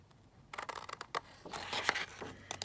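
Scissors snipping paper words for an Easter craft tag: a few separate close snips, then a denser run of quick cutting strokes, with no one talking.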